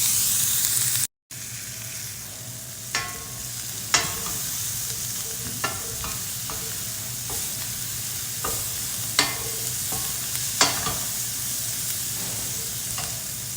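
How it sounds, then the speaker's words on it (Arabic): Onions sauté in a pan for butter chicken, a steady close sizzle and hiss with repeated scraping clicks from stirring. "وبنحط عليها البصل، نحمص معاها البصل"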